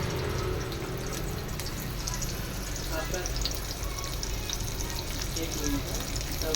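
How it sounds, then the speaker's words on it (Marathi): Garlic sautéing in a pan alongside paneer, with onion about to go in: a steady, dense frying hiss runs throughout at moderate level with faint scraping and clinks, and no voice. "लसूण व्यवस्थित असा भाजून झाला की त्यात आपण कांदा टाकूया"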